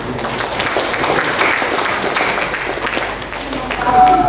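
An audience applauds at a book launch and discussion in a university hall, sustained clapping that carries on through most of the moment, with a voice joining near the end.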